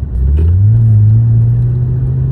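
A car passes close by, a loud low engine rumble that rises and holds, steady and heavy through the short moment, with no talk over it.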